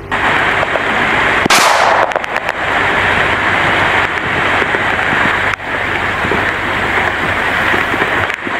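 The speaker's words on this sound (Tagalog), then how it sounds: "Pati ulan na" Heavy rain pours outdoors in a loud, dense, unbroken wash, with a sharp burst of noise partway through and occasional thuds.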